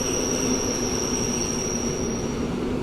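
An EW60 electric multiple unit at Warszawa Główna station gives a steady, close rolling rumble with a sustained high-pitched wheel squeal running throughout, no voices heard.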